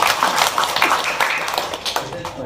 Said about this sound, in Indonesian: Oke, tepuk tangan dong, alhamdulillah.